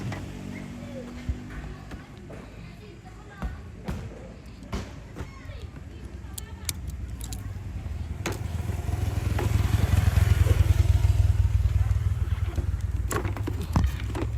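A motorcycle heads toward a ceremony arena at a traditional Toraja ritual, its engine rumble swelling as it passes nearby around the middle and fading again, amid crowd noise, scattered clicks and people talking.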